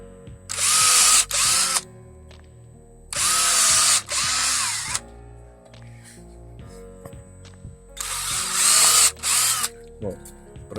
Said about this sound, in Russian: Стараемся сверлить ровно, чтобы шипы потом были ровненькие.